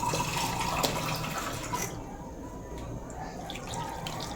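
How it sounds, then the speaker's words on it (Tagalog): Water pours into a cooking pot holding carrots for lomi, a steady rushing splash that cuts off after about two seconds and leaves a quieter, faint background hiss. "lalagyan po muna natin ng tubig. Para po maano yung ating carrots lumambot."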